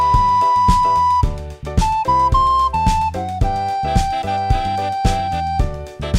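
A recorder plays the Kenyan Swahili love song Malaika: a clear, sustained melody of pure notes over a steady low accompaniment with a regular beat, loud and close throughout.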